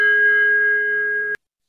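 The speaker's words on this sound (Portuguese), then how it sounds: "quando eu estou batendo o sino" A single bell struck once to open a Rotary Club meeting in Brasília, ringing out with a clear sustained tone for over a second before being abruptly damped.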